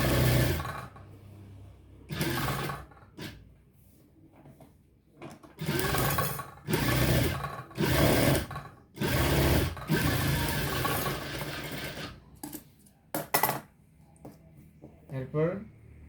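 Domestic sewing machine running a pressed stitch along a neckline to attach neck lace, in bursts of several seconds separated by pauses, fairly loud and close, with a person talking between the runs.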